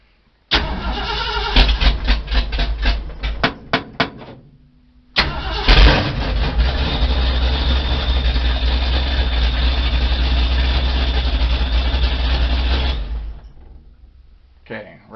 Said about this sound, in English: So I'm going to start the truck.